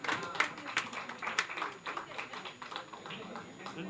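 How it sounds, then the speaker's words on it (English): An audience applauds at a grand national awards ceremony for social excellence, with steady mid-distance clapping that continues throughout and voices talking faintly underneath. "a big round of applause please"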